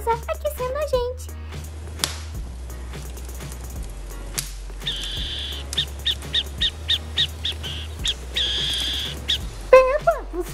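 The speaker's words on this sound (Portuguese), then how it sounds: "É só uma coruja passando aqui em cima de nós" Cartoon owl passing overhead at night beside a campfire, heard as a series of short, evenly spaced hoots and calls amid other sounds, with people talking briefly at the start and end.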